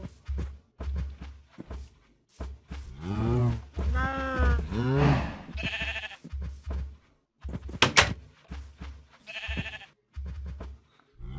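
Cows in the Minecraft video game give a few drawn-out, bleating moos in the middle stretch, close and fairly loud, with someone talking in short bursts around them.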